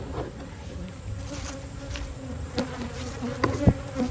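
Honey bees buzz around an opened hive, a close, continuous droning hum with a few louder passes of individual bees near the listener.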